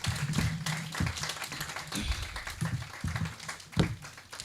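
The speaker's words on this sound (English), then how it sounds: "Please, a louder round of applause for Dr. Vanessa." An audience at a women's conference applauds, with many hands clapping in a continuous, fairly even patter that holds steady with a few sharper claps near the end.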